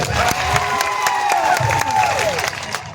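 A rally crowd claps and cheers for the police, a dense, continuous wash of applause with scattered shouts that holds steady throughout.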